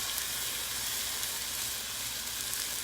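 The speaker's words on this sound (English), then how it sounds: "we're going to put the pork loin directly on there. And you want to sear it on both sides, or all 4 sides" A pork loin sears in avocado oil on a Blackstone griddle, giving a steady, close, even sizzle with a constant hiss and no voices.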